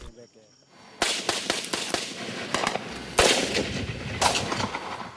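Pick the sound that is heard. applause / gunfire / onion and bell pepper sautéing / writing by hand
gunfire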